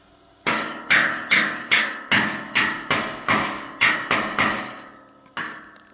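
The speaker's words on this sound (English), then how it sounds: "Also just grab a hammer," A hammer strikes plasma-cut steel to knock off slag, about a dozen times in a quick, even rhythm, each sharp clank ringing briefly, then a short pause and one final hit.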